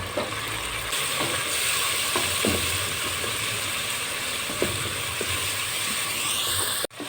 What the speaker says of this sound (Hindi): इस जो मसाले मैंने डाले हैं इसको अच्छी तरह हम भूनेंगे